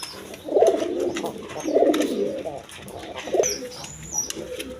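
Yellow Gorra pigeons coo in repeated low, throaty phrases, three clear bursts close by against a busy background with faint chirps.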